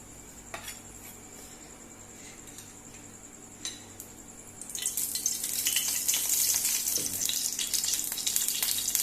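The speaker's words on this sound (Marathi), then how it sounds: "हो कांदो आतां फ्राय करुया, तेल घालुया" Onion in oil in a pan for Goan green chicken, starting with quiet kitchen clatter and then a steady, close sizzle that swells and carries on to the end, no voices.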